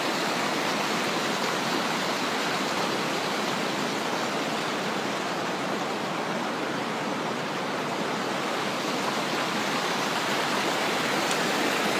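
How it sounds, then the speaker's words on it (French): A forest stream beside a bushcraft bivouac flows in a dense, continuous rushing hiss, steady and close throughout with no other sounds. "Moi j'aime bien le bruit de l'eau."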